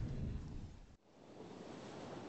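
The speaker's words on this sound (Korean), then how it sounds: "따사로운 햇빛, 시원한 파도 소리, 좋구만." Ocean surf on a sunny beach washes in as broad, quiet noise, with a brief dip before the steady roar of the waves resumes.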